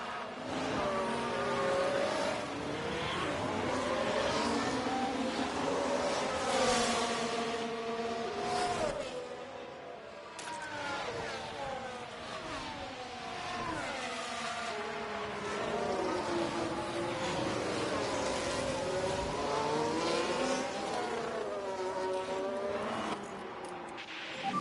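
Several F1 race cars roar on the Baku circuit in F1 Manager 24, engine tones rising and falling as cars jostle and pass, a steady droning mix throughout.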